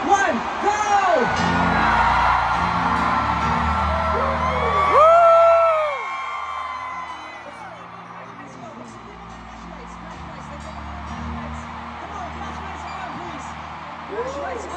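A concert crowd shouts back in unison at a stadium show, loud massed yelling and whooping that surges for several seconds and then drops to a lower murmur of cheering.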